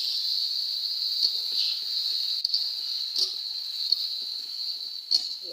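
A cooking pan hisses steadily after a little water is poured over a stirred spice mixture for a coconut dish, a continuous close sizzle-hiss broken by a few soft stirring clicks, with no talking.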